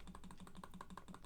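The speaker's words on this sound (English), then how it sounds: "you can just press the second key and then the enter key, and that will bring up your previous answer" Rapid, even key presses on a calculator, a string of about a dozen light clicks in a steady rhythm, faint and close with no talking.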